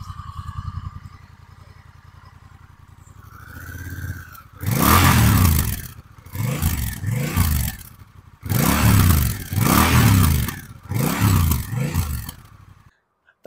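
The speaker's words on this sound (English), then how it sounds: "Just on idle, it's got a nice little rumble to it." 2022 Honda Rebel 1100 DCT cruiser motorcycle engine rumbling at idle, then several loud revving bursts in a row, each rising and falling, close to the microphone.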